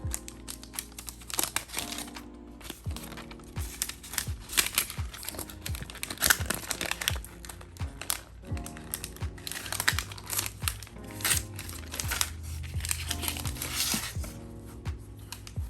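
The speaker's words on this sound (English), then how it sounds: "there is a paper wrapping on here. Let me just take this off real quick." Paper wrapping is torn and peeled off an Apple AirPods Max box, a long, close run of crinkling, rustling and ripping with sharp crackles throughout and no talking.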